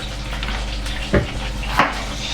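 Food frying in a pan on a stove while cooking a meal, a steady sizzle throughout with two brief louder bursts, as if ingredients are stirred or moved about.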